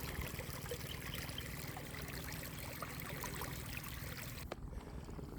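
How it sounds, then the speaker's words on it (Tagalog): Water let loose from a source runs steadily onto a dry, parched farm plot, a faint continuous trickling flow with no voices over it, briefly dipping near the end. "nagpapakawala na tayo ng tubig para suporta ng dyan sa kabila papunta sa baba"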